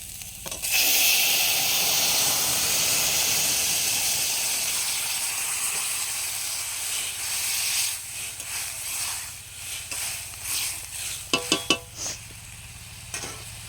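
A mild vegetable curry bubbling in a pot, with a loud steady hiss and sizzle that gradually fades, followed by scraping stirs and a few sharp knocks against the pot toward the end.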